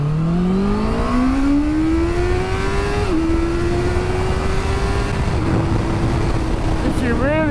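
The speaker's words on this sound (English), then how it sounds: "I think it's definitely an engine you're going to have to rev if you want to get the best out of it." A Honda CBR650R motorcycle with a 12,000 RPM redline, its engine note climbing steadily through the gears on a ride, loud and continuous with brief dips at the shifts and wind rush underneath.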